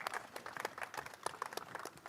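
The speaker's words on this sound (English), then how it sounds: "A round of applause for the new Le Mans trophy" Faint, distant applause rises for the new Le Mans trophy at the Pebble Beach Concours, a loose, scattered patter of clapping hands at low volume.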